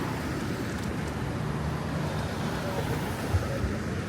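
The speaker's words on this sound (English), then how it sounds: "Got all the cars coming." Steady roar of city traffic near Times Square, New York, with cars rumbling past, broadband road noise filling the whole stretch with no clear pauses.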